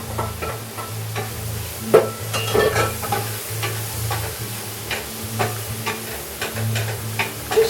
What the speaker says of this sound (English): I'm gonna use the fond of that bacon to lightly saute the shallots